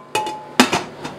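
A lid goes onto a cooking pot of butternut squash soup with a few sharp metallic clanks and knocks, one louder impact in the middle, close by and without talk.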